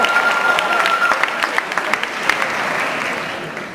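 Steady, dense clapping from a large audience during a valedictorian graduation speech, holding loud for a few seconds before slowly tapering off at the end.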